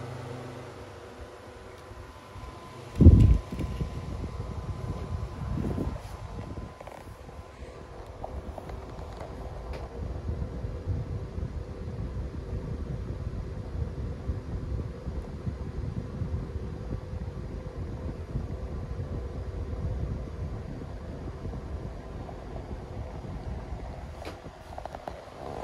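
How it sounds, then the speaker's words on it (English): A small Imarflex USB fan with a DC motor runs steadily, giving an even, low whirring drone close to the microphone that holds at the same level throughout, with a brief knock near the start and no voices. "it's a small fan with a DC motor"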